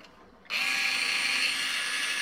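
Parkside PAS D5 small cordless screwdriver from Lidl spinning with a wobbling chuck; after a brief quiet moment a steady, close, high-pitched electric motor whine starts and runs continuously, no voices.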